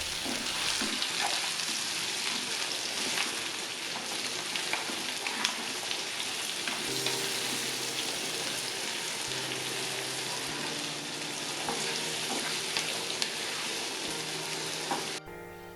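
Potatoes and onion frying in a pan, a continuous loud sizzle with occasional stirring scrapes and crackles, steady throughout and cut off sharply at the end.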